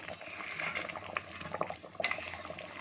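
Mustard hilsa fish curry stirred slowly in a pan, a soft bubbling simmer with scattered utensil scrapes and light clinks against the metal, faint and close with no voices.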